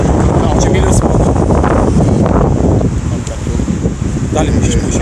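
Strong wind roars outdoors on a city street lined with old tenement buildings, gusting loudly across the microphone in uneven surges that dip briefly midway, with faint voices underneath.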